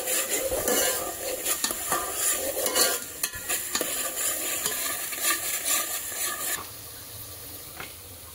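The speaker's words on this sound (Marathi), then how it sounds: "आधी कांदा आणि लसूण चांगल्यापैकी भाजून घ्यायचे आहे." Onion and garlic frying in a pan for a Konkani goat mutton dish, with steady sizzling under repeated stirring and clinks of a metal spoon against the pan, close and fairly loud.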